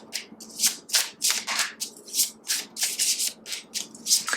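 A deck of oracle cards is shuffled by hand in steady, rapid riffling bursts, crisp and close, repeating rhythmically with no talking.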